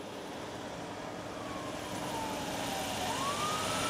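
A fire truck siren wails faintly from a distance, its rising and falling tone sweeping over a steady background hum. The truck belongs to firefighters working in the arid Rumorosa mountains.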